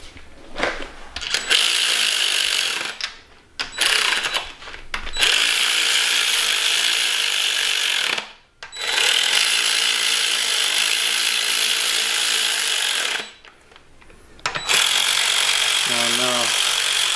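A power tool torques bolts on an engine during a timing belt and clutch install, loud rapid ratcheting bursts broken by short pauses, the tool slowing as its battery dies near the end, with no talking.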